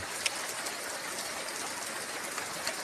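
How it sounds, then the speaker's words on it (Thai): Heavy hail pelting a car in Israel makes a dense, steady patter across the whole stretch, a continuous hiss of small impacts with a few sharper clicks and no voices. "ลูกเห็บตกหนักพี่น้องเอ้ยดูดิ"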